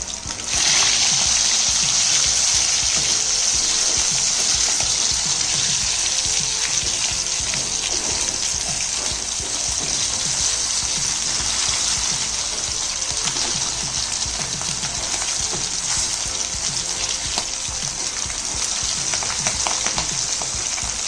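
Fish fries in a pan of hot oil with a steady, dense sizzle and crackle that continues unbroken and fairly loud throughout, with no talking over it.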